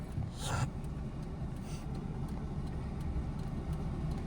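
A car engine runs steadily at a low rumble throughout while a learner driver pulls away in first gear, with a brief higher whoosh near the start and no talk over it.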